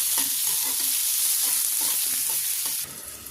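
Finely chopped large tomato frying in oil in a kadai for a Konkani Bhogi vegetable dish, a steady loud sizzle broken by repeated scraping stirs of the spoon, ending with a softer sizzle near the close.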